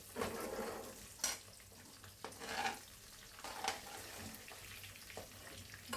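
Tengra fish frying in hot oil, a faint, steady sizzle with a few soft clinks and stirring scrapes, no voices.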